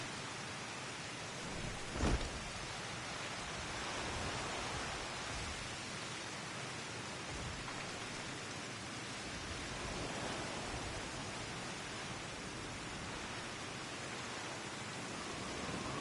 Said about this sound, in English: anything to get out of this rain, because I'm soaked